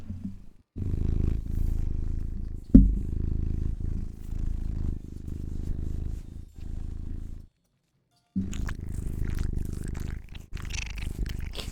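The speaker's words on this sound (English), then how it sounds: "Purr noises are like the best noises in the world." A house cat purrs steadily up close in a loud, low rumble, with a brief break near the middle and a short silent gap before it resumes, plus a few faint clicks.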